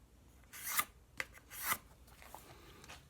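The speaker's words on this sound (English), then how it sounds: "I'm going to create a line right through here" A pencil drawing a line across a wooden workpiece marked for jigsaw cutting: two main dry scratchy strokes and a few lighter ones, quiet and close, with no voices.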